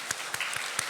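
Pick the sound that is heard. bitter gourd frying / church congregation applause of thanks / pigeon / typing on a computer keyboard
church congregation applause of thanks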